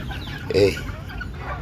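Native chickens at feeding time, with one short, close cluck rising over a low murmur of birds pecking at their feed.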